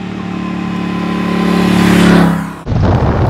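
A 2017 Triumph Bonneville Bobber motorcycle rumbles loudly while riding, its exhaust note building steadily over a few seconds before abruptly cutting to a rougher, lower growl.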